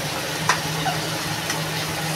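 Eggplant frying in a pan makes a steady, moderately loud sizzling hiss over a low hum, with a couple of faint clicks from the utensil.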